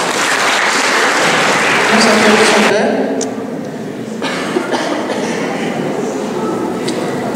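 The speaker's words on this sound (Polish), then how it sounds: "Brawa jeszcze raz." Applause from a school end-of-year ceremony audience, loud and dense for about three seconds, then carrying on more softly with a voice speaking over it.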